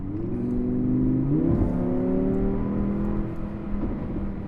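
A powerful car engine revs and accelerates hard, its pitch rising and shifting through gears, loud and close with no voices.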